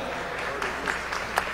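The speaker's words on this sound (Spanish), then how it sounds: "fuerte ese aplauso." Audience applause at a serenade for Santa Rosa de Lima, a brief wash of steady clapping with a few louder claps standing out, moderately near and not very loud.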